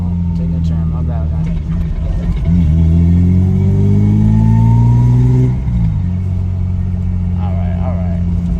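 A Lexus SC300 fitted with new headers and exhaust, driving and revving: a loud, close engine drone that climbs steadily in pitch, then drops off before settling back to a steady cruise.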